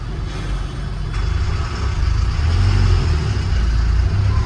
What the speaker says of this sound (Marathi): काय एवढं ट्रॅफिक आहे का नाही